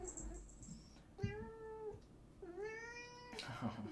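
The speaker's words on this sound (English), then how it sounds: "Say hello to my cat. Cat wants to say hi." A house cat meows twice in long, drawn-out, rising-and-falling calls, close and clear, with faint background noise and no talking.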